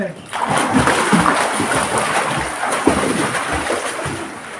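A child swims and splashes in water, the splashing rough and steady at close range, with voices talking over it.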